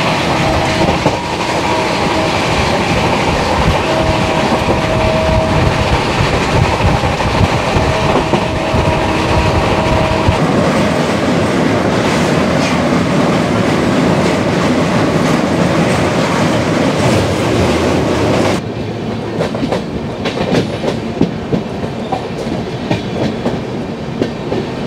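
Aboard the 12320 Gwalior–Kolkata Superfast as it pulls away from Dhanbad, a loud, dense roar of wheels and rattling coaches carries on without a break, with clickety-clack and a faint whine, no voices.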